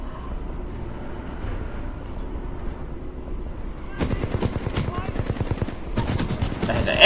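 Gunfire from the video game Titanfall 2 starts after a quieter stretch as rapid automatic bursts, crisp and loud, broken by a brief pause before a second burst.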